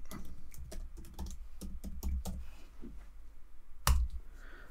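A password is typed on a computer keyboard as a quick series of close, crisp key clicks in uneven bursts, ending with one louder keystroke after a short pause.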